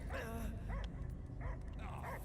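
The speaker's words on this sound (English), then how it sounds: "I hear only barking." A dog in Marvel's Guardians of the Galaxy video game on Knowhere gives a short run of faint yips and whimpering barks, spaced about half a second apart, under a low background hum.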